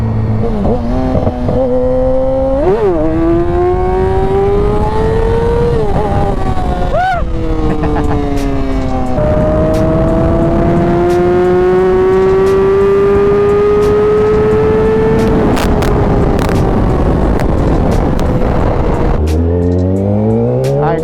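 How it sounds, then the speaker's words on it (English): A Yamaha R6 sport motorcycle engine running loud and close, its tone rising and falling through several throttle blips and sustained climbs, with a rougher, lower drone near the end. "The rough idle is, I guess, rough."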